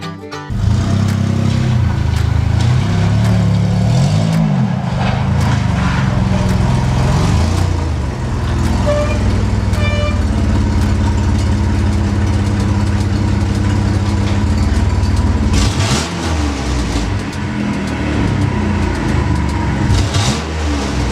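A Dodge Dakota engine fresh from a tune-up runs loud and close, its steady drone rising and falling through several revs over about twenty seconds, with no voices.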